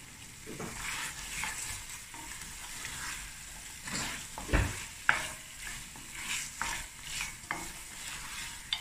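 A pot of Cape Malay sugar bean bredie, a half-white bean stew, is stirred as it braises on an island stove, giving scraping, clattering strokes over a low steady simmer and sizzle, close and alone.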